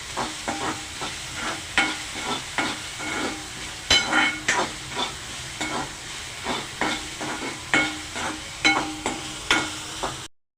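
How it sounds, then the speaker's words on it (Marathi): Onion frying in a pan until reddish, a steady sizzle broken by regular scraping stirs of a spoon against the pan, close and fairly loud with no talk. "छानपैकी मिक्स करा छानपैकी भाजा लालसर करा कांदा"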